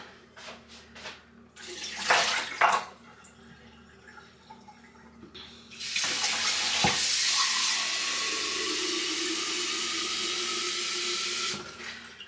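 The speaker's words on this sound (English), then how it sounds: "Let me just put a bit of fresh water in here." Tap water running into a container, opening with a few knocks and brief splashes, then a steady loud gush that drums and changes pitch as the vessel fills, close by, with no talk over it.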